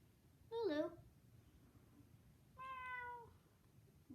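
A cat gives two distinct, fairly close meows about two seconds apart over a quiet indoor background.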